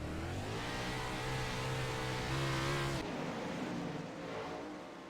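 410 outlaw dirt track race cars roar around the Limaland track during a heat race, a loud sustained engine howl with pitch climbing under acceleration, then dropping as the cars sweep past and fade slightly.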